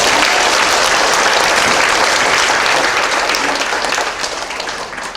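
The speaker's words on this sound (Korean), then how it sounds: "여호와 하나님께 영광의 박수 올려드리겠습니다" A large church congregation applauds loudly and continuously, the clapping tapering off slightly toward the end.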